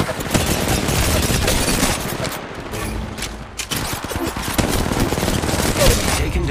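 Rapid automatic gunfire from the Apex Legends Mobile video game rattles on loudly for the whole stretch in dense bursts, with game voice lines mixed in.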